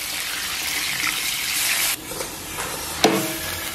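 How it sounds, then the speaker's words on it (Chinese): Pork broth pours into a hot wok with a rushing, sizzling wash of liquid that stops abruptly, followed by a brief clank of the wok. "把猪肉的原汤啊给它下到锅中"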